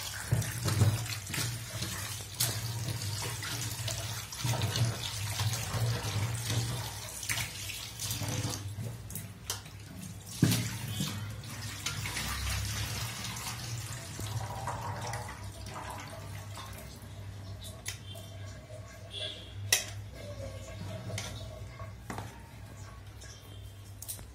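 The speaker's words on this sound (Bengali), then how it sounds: "যে পর্যন্ত পরিষ্কার জল না বের হবে সে পর্যন্ত আমরা পাবদা মাছগুলি ধুয়ে নিব" Running tap water pours steadily in a kitchen sink while pabda fish are rinsed by hand, with occasional splashes and clinks against the bowl over a constant low hum.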